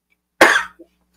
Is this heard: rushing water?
no